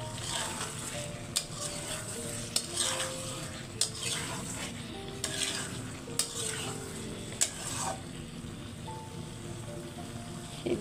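Hilsa fish and taro fry in a pan with a soft, steady sizzle while a utensil stirs them, scraping and tapping against the pan at a regular pace of roughly one knock per second.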